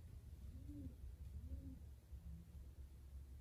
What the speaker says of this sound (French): Oh, vous entendez les oiseaux.